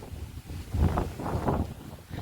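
Strong wind gusts buffet the microphone on a 2 km hill road near Kamatchipuram in Theni district during a bicycle ride, rumbling in low surges that swell and fade.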